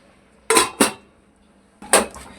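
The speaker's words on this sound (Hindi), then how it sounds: "अब मैं ढक रहा हूँ इसको" A metal lid goes onto a cooking pot holding tomatoes, with two quick clanks, a pause, then another pair of rattling clinks, close and fairly loud in a quiet kitchen.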